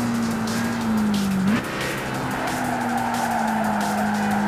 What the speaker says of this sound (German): Aber ich höre schon mal schön die Reifen quietschen.